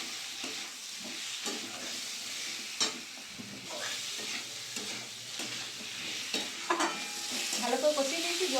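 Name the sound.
sautéing potato and kohlrabi in spice mix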